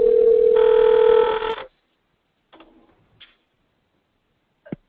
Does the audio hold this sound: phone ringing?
yes